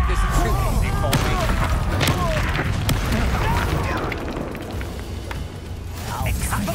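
Confringo spell explosions in a Harry Potter video game, booming thuds and crackling blasts amid busy combat noise, with voices shouting over the action.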